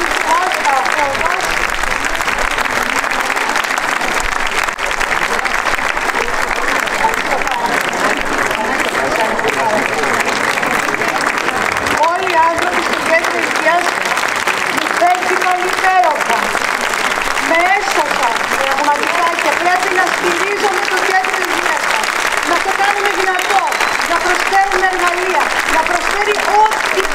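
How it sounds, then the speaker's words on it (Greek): Dense, sustained audience applause fills a hall after a talk, a continuous wash of many clapping hands with a voice speaking over it. "Δεν έχω συνηθίσει να με χειροκροτάνε σαν γιατρό"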